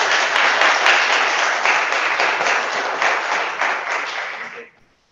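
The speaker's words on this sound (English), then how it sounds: "One more round of applause." A large church congregation applauds loudly and steadily for several seconds during Sunday worship, the clapping fading out quickly at the end.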